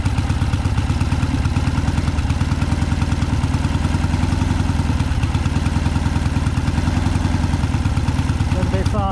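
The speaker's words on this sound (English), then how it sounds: "Just the air screw, 1/4 of a turn in or slightly in so you hear the revs increase." A Triumph Bonneville T140V motorcycle engine with twin Amal 930 Concentric Mk1 carburettors idles close by during carburettor balancing, a steady, continuous, throbbing run with no clear pause for the whole stretch.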